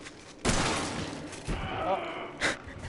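Shotgun blasts in Resident Evil 7: three heavy booming shots spaced about a second apart, each with a short decaying tail, while players talk and react excitedly around them.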